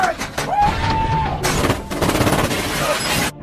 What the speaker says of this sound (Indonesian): Mereka menembaki Chris tanpa pengetahuan bahwa Booth berada di salah satu sel